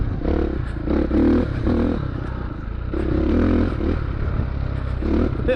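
A Ducati dirt bike runs close and loud on an enduro track, its engine surging and easing in repeated revving bursts with clattering and scraping underneath.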